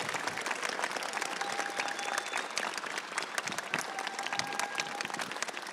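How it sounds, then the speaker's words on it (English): Applause for panelists after a discussion on housing policy for young people: a steady, even wash of many hands clapping, moderately distant, sustained without pause for the whole stretch. "So now I ask for applause for a wonderful panelists."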